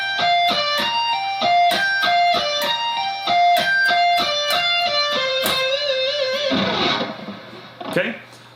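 Distorted electric guitar plays a solo pattern: rapid repeated picked notes in a steady rhythm, then a bend and a sustained ringing note fading near the end, close and loud.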